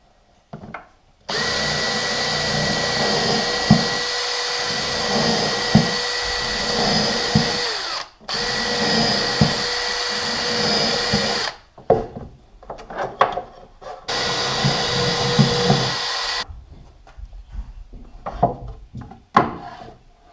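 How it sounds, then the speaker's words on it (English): A loud, steady power drill whines in three long runs while boring holes in a cabinet, separated by brief pauses, with a few light clunks and knocks between bursts. "And I'm just going to drill right there. I'm going to do 5 holes."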